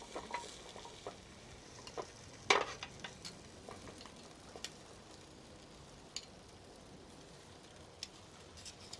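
Food sizzles and fries quietly in a pan while cooking, a faint steady crackle with occasional louder pops and ticks, no talking.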